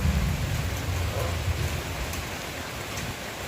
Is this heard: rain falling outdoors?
yes